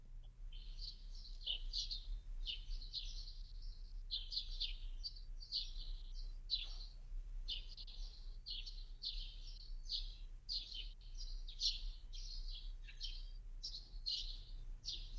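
Outdoor birds sing in a continuous run of bright, rapid chirps and trills, fairly faint and distant over a low steady hum, with no talking.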